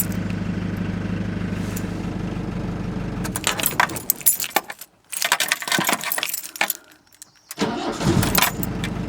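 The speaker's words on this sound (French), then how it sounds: "je vais même vous le redémarrer pour vous montrer qu'il n'y a vraiment pas de souci" Iveco Daily 35-10 van parked and idling, then keys jangle and the engine is shut off and restarted with quick cranking bursts before catching, heard close with no talk.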